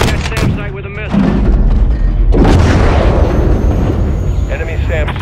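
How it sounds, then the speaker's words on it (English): A heavy missile impact booms against a SAM site in Call of Duty: Modern Warfare III, a loud close blast followed by rumbling debris and a second deep thump, with radio voices talking over the explosions. "Gunner, drop a missile on that SAM site."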